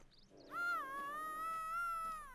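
A bear in the hunting game The Hunter: Call of the Wild gives a drawn-out, wavering tonal call, starting after a brief higher chirp and holding steady for about two seconds at moderate distance.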